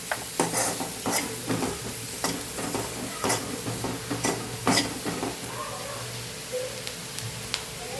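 A spoon stirs a spicy Kathiyawadi chilli curry in a pan, with repeated scraping clinks over a soft continuous sizzle, close and fairly loud, the strokes thinning out toward the end.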